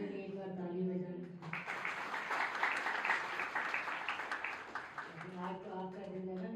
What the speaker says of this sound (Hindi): अपने लिए एक बार ताली बजाइए।